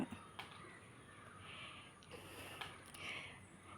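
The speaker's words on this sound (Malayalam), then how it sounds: "എന്തോ 2 കാക്കകളാണ് വന്നത്" Two crows caw in short, scattered calls over a steady outdoor background hum, moderately distant and fairly faint, with no talking.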